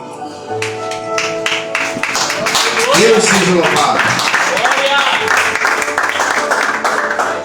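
Church congregation applauding during a worship service, a steady crowd clapping that swells and holds under a voice speaking over it.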